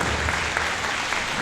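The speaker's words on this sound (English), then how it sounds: "I think Tara and Pastor Samantha need a round of applause." Applause rings out at a community live-streamed gathering for Tara and Pastor Samantha, a steady wash of many hands clapping that holds evenly for the whole stretch.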